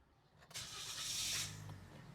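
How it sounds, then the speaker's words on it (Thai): A 2021 Toyota Yaris 1.2 Sport engine cranks and catches with a burst of broadband roar, then settles into a steady low idle rumble nearby. "มาเราลองสตาร์ทเครื่องยนต์กันนะครับ"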